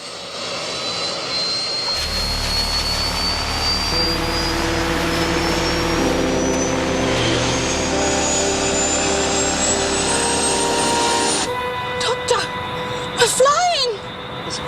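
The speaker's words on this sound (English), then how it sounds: "they let Lupton escape in the chopper" A helicopter in a Doctor Who chase scene from Planet of the Spiders gives a loud, steady engine drone under a whine that climbs in pitch, then cuts off abruptly before brief voices are heard.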